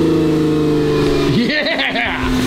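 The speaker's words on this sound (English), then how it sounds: "Cold start time. Cold start!" A Porsche Carrera GT engine cold-starts loud and close, with a steady hum giving way to a rising, wavering revving as the engine catches and settles.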